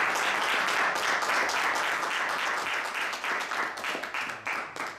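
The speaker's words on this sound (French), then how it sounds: "La municipalité vous applaudit." A municipal council gives a room full of steady, dense applause that stays strong and then thins out toward the end into scattered claps.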